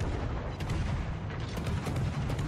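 Naval gunfire in the game World of Warships, including the battleship Yamato, comes as dense, rumbling booms and crackling bursts over a constant noisy battle backdrop.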